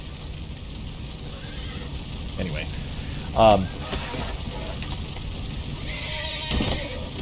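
Horse whinnying in the Red Dead Redemption video game after a wagon is set on fire, a short rising neigh in the middle of continuous ambient game sound, with someone talking over it.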